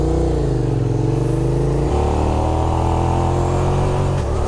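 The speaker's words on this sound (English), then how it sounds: "God, I love the sound of V-twins" A Suzuki SV650 V-twin motorcycle engine revs loudly and close by, its pitch climbing and dropping through a throttle blip and then settling into a steady throbbing run, with no voices.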